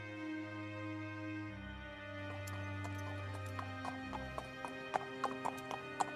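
Cartoon horses clip-clop as a king and his minister ride into the forest to hunt, with hoofbeats growing into a brisk, crisp trot over a steady musical drone.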